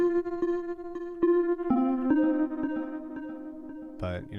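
Bell-like synth preset in Phase Plant playing a short sequence of clean tonal notes with shimmering harmonics and a chorused, reverberant tail, fairly soft.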